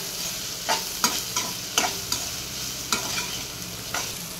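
Bitter gourd pieces are stirred in a frying pan, with a steady sizzle broken by a series of sharp scraping clatters from the spoon against the pan.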